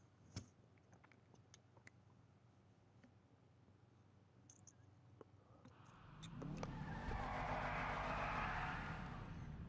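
A Sultan Classic car in the GTA video game approaches, its engine swelling from a faint idle rumble with scattered clicks into a louder, sustained roar over the last few seconds.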